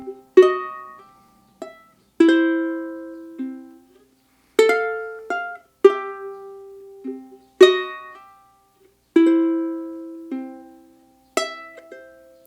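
Ukulele picks out the pickup and opening measures of the Hawaiian waltz 'Imi Au Ia 'Oe (King's Serenade), plucked notes and soft strummed chords ringing and decaying in a slow, unhurried three-beat sway, clean and close with no voice.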